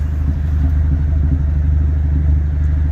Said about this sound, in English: Let's take a listen out to the exhaust burbling away.